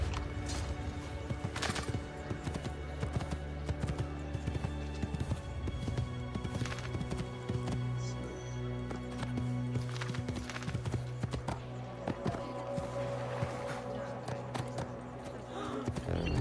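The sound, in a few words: horse galloping in video game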